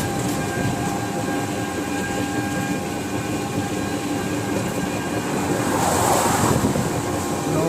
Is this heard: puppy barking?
no